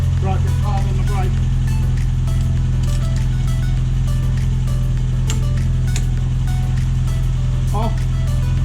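A Classic Mini engine idles steadily close by, a constant low rumble with harmonic bands running the whole time while people talk briefly over it near the start and end.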